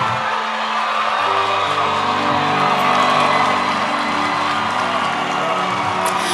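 Church congregation clapping and cheering in a loud, continuous wash of applause with whoops and shouted voices layered over it.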